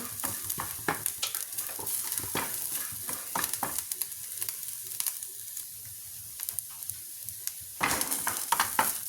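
Ingredients for a fish curry are stirred and lightly roasted in a pan, with crisp sizzling punctuated by repeated scraping stirs and clicks of a spoon against metal, close and moderately loud.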